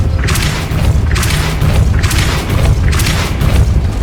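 Four evenly spaced, heavy whooshing booms about a second apart, the impacts of the Depulso spell in the video game Hogwarts Legacy, with a dense low rumble underneath.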